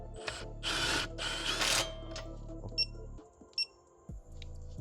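Impact wrench zapping a coilover bolt on a GR86 or BRZ fitted with MCS coilovers, heard as several short, loud rattling bursts close by, followed by a few isolated clicks and clanks of the tool in the quiet.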